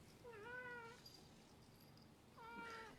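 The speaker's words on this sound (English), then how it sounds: "And there is the kitty." A cat meows twice, each call a clear drawn-out tonal cry, the first near the start and the second near the end, with a quiet room hum in between.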